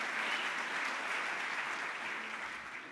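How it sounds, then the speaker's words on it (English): A crowd at a music publishers' annual meeting applauds, a thick, even wash of clapping that holds for a few seconds and then begins to taper. "you can whistle and applaud to that"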